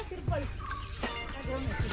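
Chickens cluck and squawk close by in a busy, noisy yard, with loud bursts overlapping one another.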